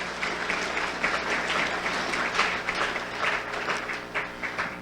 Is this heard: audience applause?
yes